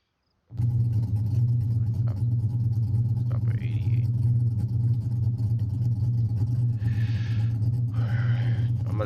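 Car engine in the video game BeamNG Drive holding a steady loud drone after starting abruptly, with low rumble throughout and a few brief higher whines and chirps over it; someone speaks briefly over the engine.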